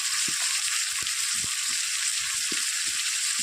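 Chopped tomato hitting a hot pan of ghugni, the Bengali dried-pea curry, giving a steady loud sizzle and frying hiss with faint soft stirring taps throughout.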